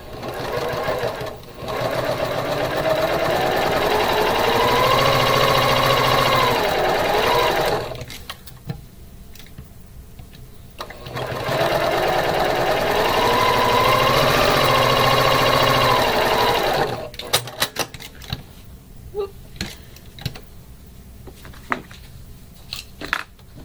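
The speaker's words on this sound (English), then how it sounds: "So we're going to sew to the left of the line and to the right of the line a scant 1/4 inch." A sewing machine stitches half-square triangle quilt pieces a scant quarter inch from a drawn line. It runs loud and steady in two long bursts of about seven seconds each, with quiet pauses between them and soft handling clicks afterward.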